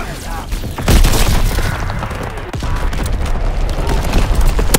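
Heavy artillery booms from a World War II battlefield in Call of Duty WW2, a loud thump near the start followed by sustained rumbling fusillade and overlapping blasts, with a voice speaking under the din.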